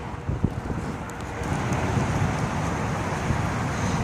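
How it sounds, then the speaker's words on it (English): Strong wind buffets outdoors around a 1997 Plymouth Voyager wheelchair-accessible van, a loud, continuous roaring rush with low gusty rumbles that swell and hold steady. "It's very windy out."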